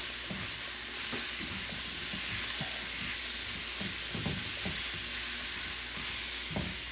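Egg and green onions fry in a pan with a steady, close sizzle, broken by light scraping taps from stirring throughout.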